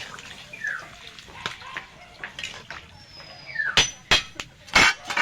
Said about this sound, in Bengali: বাটিটা ধুয়ে দিয়ে দেবো। পরিমাণ মতো জল দিয়ে দেব।